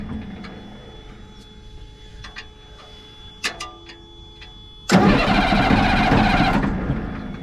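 A DAF truck diesel engine, just bled of air in its fuel system, is cranked over. A few scattered clicks and ticks come first, then the engine catches abruptly and runs loud and rough close by.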